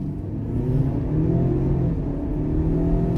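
A 2021 Ford Explorer XLT with a turbo engine pulls hard from a standstill after a brake launch, its steady, loud engine roar rising and rumbling throughout with no talking.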